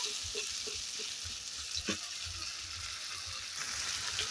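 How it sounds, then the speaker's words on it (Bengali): Onions with ginger and tomato paste fry in a pan, producing a continuous soft sizzle with intermittent light stirring scrapes, heard close and fairly quiet with no voices. "পেঁয়াজ ভালো করে একটু ভেজে নেব"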